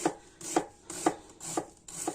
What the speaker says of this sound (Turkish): Şimdi sebzelerimi doğrayacağım. Öncelikle böyle bir adet soğan kullanıyorum.